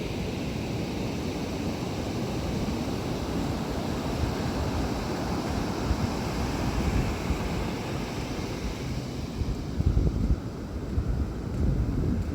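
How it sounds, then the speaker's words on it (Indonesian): Ocean waves break on Kebo Beach in Trenggalek as a continuous, loud roar of surf mixed with wind buffeting the microphone. "Ombaknya memang terkesan menakutkan, cuma nggak sampai memakan tepiannya kok."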